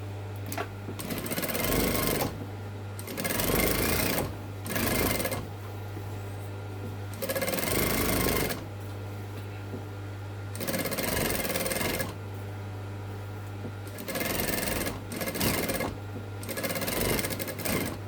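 A sewing machine stitching a zip onto a garden seat pad, running in repeated short bursts of one to two seconds separated by pauses, over a steady low hum.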